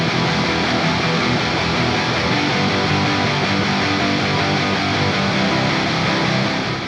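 Layered crunchy, fuzzy and octave-down guitars play together as a dense, heavy wall of distorted tone, steady and loud throughout with no voices.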